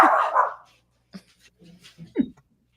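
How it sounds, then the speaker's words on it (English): A dog barks loudly and close at first, then a few quieter, uneven barks and yips follow after a short pause, with no talk. "These damn dogs."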